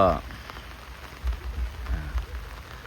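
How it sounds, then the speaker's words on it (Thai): Rain falling steadily over a durian orchard, a soft continuous patter with low rumbling gusts, quiet and fairly close, with a brief voice at the very start. "เป็นการมาบันทึกคลิป เกี่ยวกับการที่ฝนตกนะครับ"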